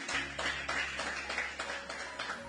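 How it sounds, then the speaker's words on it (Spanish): A church congregation claps in rhythm, a run of quick, fairly soft hand claps at a steady pace with a low droning tone underneath, and no voices over it. "le vamos a dar un fuerte aplauso a nuestro Dios, iglesia"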